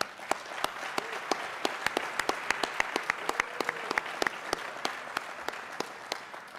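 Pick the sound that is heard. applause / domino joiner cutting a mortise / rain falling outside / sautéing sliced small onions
applause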